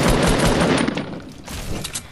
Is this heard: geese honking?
no